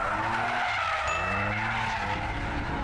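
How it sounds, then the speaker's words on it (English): Tires of a convertible skid and squeal steadily as the car drifts, a loud continuous screech with engine noise beneath, close by and without talk. "can you drift that? Of course I can drift it."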